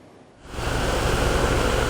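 Stormy surf on the Black Sea coast at Sarıyer, Kısırkaya, a steady loud wash of breaking waves swelling in after a brief quiet start, continuous and close with no voices.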